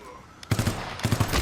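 Rapid bursts of automatic gunfire in the VR shooter Alvo, played on PlayStation VR2, erupt suddenly after a quiet start: two loud, rattling volleys close up, separated by a short gap.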